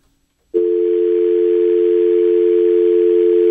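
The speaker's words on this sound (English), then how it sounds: "It would have been a big dial tone there." After a brief silence, a telephone dial tone switches on and holds as a loud, steady, unbroken hum.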